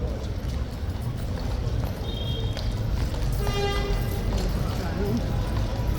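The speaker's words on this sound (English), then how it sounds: "Now the horse is in the middle of the yard." A large King's Horse, spooked, moves about a yard with clip-clopping hooves under a busy crowd and nearby voices, the footfalls fairly faint and partly masked by continuous chatter.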